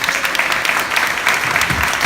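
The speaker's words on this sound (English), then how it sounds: "Let's have a round of applause for all the candidates." Audience applause for candidates at a congressional debate in Great Neck, New York, a dense, steady clapping wash filling the room without pause.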